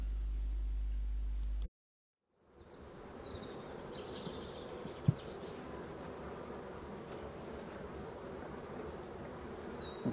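Bees humming steadily in an abandoned Voirnot hive in a forest during restoration, a continuous close buzz after a brief drop to silence, with a single faint knock.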